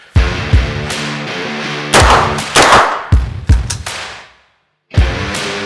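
Several loud, sharp gunshots fire in irregular bursts, each with a booming low tail, separated by short gaps and one brief silence before a final shot.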